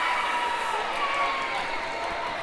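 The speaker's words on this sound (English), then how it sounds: "And he gets a huge round of applause." A large crowd at the 2024 World Ninja League Championships, Elite Male Stage 3, applauds and cheers for a ninja competitor, a steady wash of clapping and cheering throughout.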